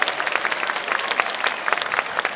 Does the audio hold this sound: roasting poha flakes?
no